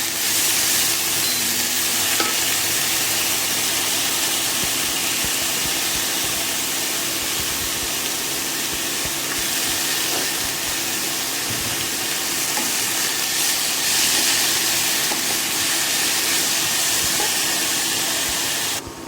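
Chopped leafy greens fry loudly in hot oil tempered with panch phoron for a Bengali shak bhaja, giving a steady, close, unbroken sizzle and hiss with occasional stirring scrapes, and no talking.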